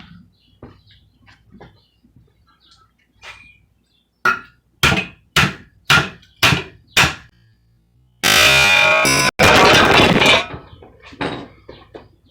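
Six sharp, evenly spaced hammer blows ring out on a metal evaporator coil being scrapped, followed by a long harsh grinding or cutting noise, with lighter tapping before and after.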